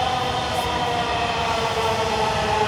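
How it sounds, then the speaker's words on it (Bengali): A Dhaka metro rail train rolls into a station with a loud, continuous mechanical rumble and whine that holds steady throughout, heard from close on the platform. "ট্রেন চলে আসছে,"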